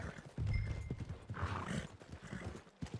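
Horse hooves clopping and a horse whinnying in the Red Dead Redemption 2 video game, a steady close clip-clop with a brief neigh mixed among game sounds near stables.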